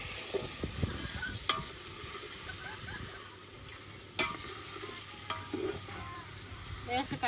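Mutton cooks in a pot on a clay-coated wood-fired stove outdoors at a village feast under trees. A steady low sizzle runs under scraping stirs, with a few sharp clinks and knocks.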